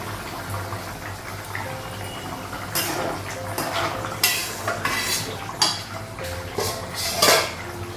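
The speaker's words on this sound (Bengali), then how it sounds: "ঢাকনাটা উঠাবো।" Clattering of a cooking pot and its lid in a home kitchen while fish curry cooks, several sharp metallic clanks and scrapes over a low background hum.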